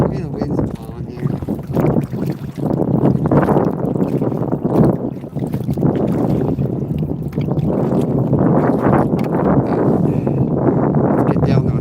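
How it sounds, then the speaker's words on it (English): Raw wind blows across the open water of a lake while fishing from a boat, gusting in loud buffeting rushes against the microphone, with people talking through it. "That wind is raw."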